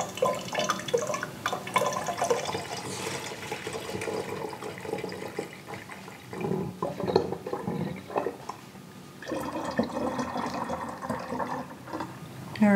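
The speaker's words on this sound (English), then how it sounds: "now I'm just gonna top off these jars with this hot water" Hot water is poured to top off jars during mead making, a continuous splashing and filling sound with drips, briefly easing midway before resuming strongly.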